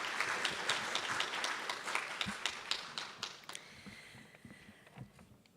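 Applause from a summit audience after a tech talk, a dense run of quick claps that starts strong and thins out toward the end.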